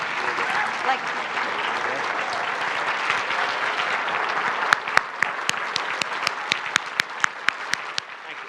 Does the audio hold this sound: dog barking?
no